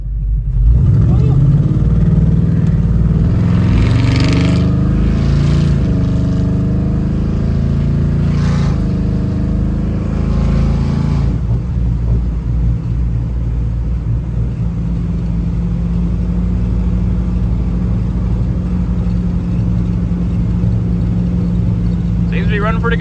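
A 1994 Chevrolet Impala SS engine runs steadily and loud at close range, with a few revs early on before it settles into an even idle rumble for the rest, and voices are heard over it.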